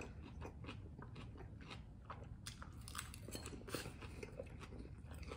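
Food being tasted in a kitchen: close, faint biting and chewing with small crunchy clicks repeating over a few seconds, no talking.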